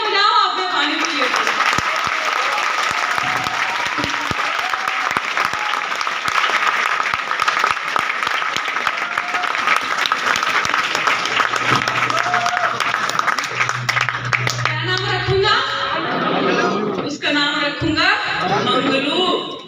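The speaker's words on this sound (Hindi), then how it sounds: "तालियां बजाओ" An audience at a talk gives long, loud continuous applause for well over ten seconds, with some chuckling and a voice speaking as the clapping thins out near the end.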